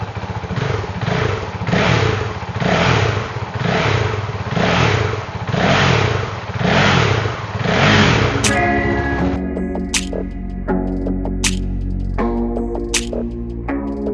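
A Honda CRF450RL motorcycle on its stock exhaust revs up and down in about seven rhythmic, rising-and-falling pulses, loud and close, before the engine note cuts away into other clattering sounds.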